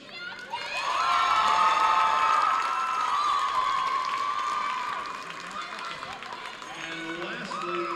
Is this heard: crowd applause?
yes